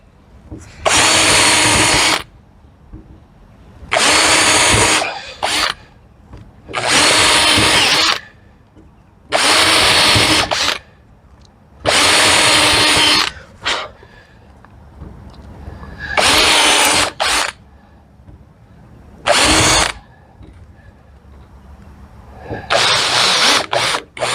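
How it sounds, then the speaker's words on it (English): A power drill whines through wood in a string of bursts a few seconds each, separated by short pauses, loud and close, drilling a series of holes while building a workbench. "along this back line here we're just going to drill a series of holes"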